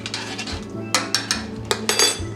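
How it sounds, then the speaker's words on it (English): Jerk chicken gravy is stirred in a pot with a metal utensil, giving repeated scraping clinks against the pot in an uneven rhythm over a low bubbling, close and moderately loud. "Start stirring it."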